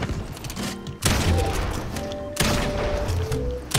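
Gunfire in an online shooter video game, dense loud bursts of rapid shots in two long volleys separated by a brief lull, with no voices over it.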